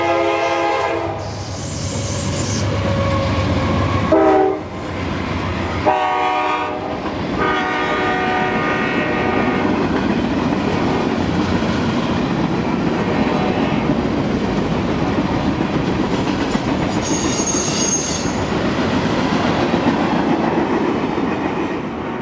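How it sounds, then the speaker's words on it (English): A freight train rolls past on a Florida line near Bushnell, opening with loud horn blasts, then a long, steady rumble and rhythmic clatter of wagons going by close, with a brief high squeal near the end. "So let's get going with some moving trains."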